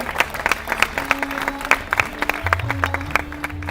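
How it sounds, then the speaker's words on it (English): Audience applause at an interior design institute's convocation ceremony, a steady patter of clapping with music playing underneath in the hall. "A big round of applause, ladies and gentlemen."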